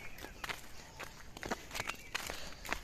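Footsteps on an evening walk sound as a steady, fairly close series of scuffing steps at an even walking pace, with no voices heard.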